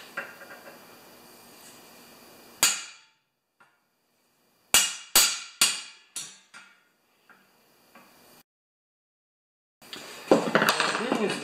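A hammer strikes torn metal on a snowblower auger of a John Deere TRS 24, giving sharp ringing metallic blows, one alone and then a quick cluster of four or five, with gaps of silence between.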